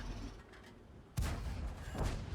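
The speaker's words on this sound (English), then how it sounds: "A couple more shots at him." Two tank cannon shots in World of Tanks: a sharp, booming report about halfway through and a softer second shot shortly after, set against low rumbling battle ambience.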